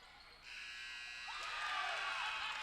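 A basketball game buzzer sounds in the E-STEM vs Pulaski Academy matchup, a sustained electronic tone that starts abruptly and holds, growing stronger over the faint murmur of the gym crowd.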